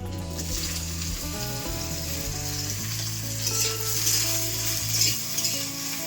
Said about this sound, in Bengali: কড়াই তেল দিয়ে আমি বেগুনগুলো ভেজে নেবো